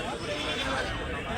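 Sheep and lambs bleating in a farm pen, a continuous muddle of near bleats under steady background noise.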